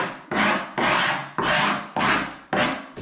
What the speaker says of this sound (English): we're going to take this fuzzy edge off from the router